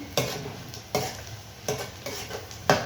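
Garlic and onion sauté in a hot pan, a steady sizzle punctuated by four regular scraping stirs of a utensil against the metal, close and clear with no talking.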